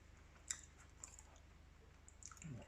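Faint, soft chewing of a milk chocolate digestive biscuit with a thick chocolate layer, a few quiet moist clicks and crunches at irregular moments over a low steady hum.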